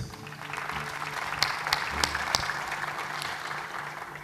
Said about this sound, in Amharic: እስቲ አጨብጭቡ ስለዚህ ጥቅስ